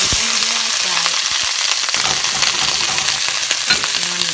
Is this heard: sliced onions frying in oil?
yes